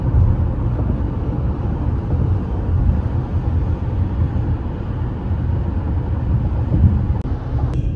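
A 2023 Toyota bZ4X electric car on the move, heard from inside the cabin as a steady low road and wind rumble that holds even for the whole stretch, with no voices.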